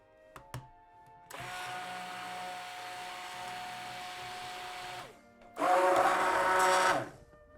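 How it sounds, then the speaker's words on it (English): A blender whirs steadily through a soap mixture for several seconds, stops briefly, then kicks back in for a shorter, noticeably louder burst, with no talking. "What I'm doing now is I'm going to blend this until it's thick enough to come"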